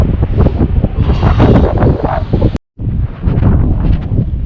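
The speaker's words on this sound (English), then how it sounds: "it is insanely windy" Loud, steady wind buffets the microphone with a roaring rumble, broken by one brief dropout, continuing throughout.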